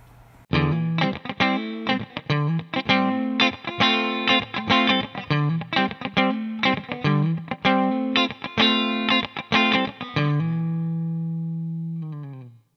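Electric guitar played clean through a modelled Roland Jazz Chorus JC-120 amp on a NUX Mighty Plug, a steady run of bright strummed chords with shimmering chorus, ending on a long ringing chord that fades out.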